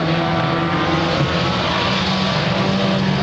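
Mini stock race cars circling Rattlesnake Raceway, a loud continuous engine drone with steady tonal hum from several cars nearby, no talk over it.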